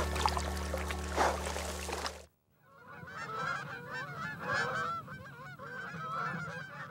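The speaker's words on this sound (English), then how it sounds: "Canada geese." A flock of Canada geese honking loudly and repeatedly, a dense chorus of overlapping calls outdoors, preceded by a brief burst of other noise.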